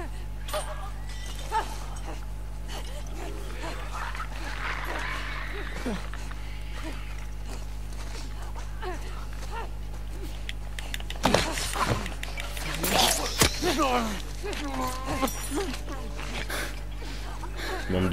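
Infected runners tied up in The Last of Us Part II snarl and growl over a low steady game drone, with harsher raspy cries flaring up in the second half.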